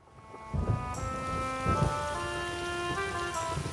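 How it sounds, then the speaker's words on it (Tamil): Heavy rain pours outside in a Tamil children's cartoon, a steady hiss of falling water with low thunder-like rumbles, blended with sustained musical tones. "வெளிய பயங்கரமா மழை பெய்யுதே."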